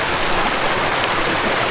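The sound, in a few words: small river Kleine Bode flowing in the Harz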